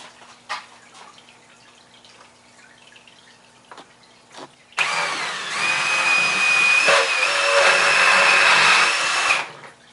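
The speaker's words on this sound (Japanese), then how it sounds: "あとこちらにも穴を開けていきます。" A power drill bores a hole, starting abruptly and running loudly and steadily for several seconds with a rising whine, after a quieter stretch of faint clicks and handling noise.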